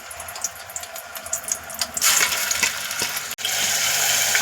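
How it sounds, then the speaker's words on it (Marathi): Ground spice paste frying in a few spoonfuls of oil in a pan, giving a steady close hiss and sizzle that grows louder partway through and continues alone. "आता हे सगळे मसाले आपण 2 मिनिटं व्यवस्थित तेलामध्ये परतून घेऊया"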